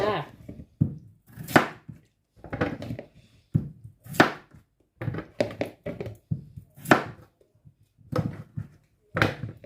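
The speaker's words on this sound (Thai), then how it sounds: "แล้วเราก็มาหั่นมันฝรั่งกันเลยนะคะ" Repeated knife chops through potatoes on a cutting board, irregular thuds spaced through the clip, fairly close, with brief murmurs of speech between cuts.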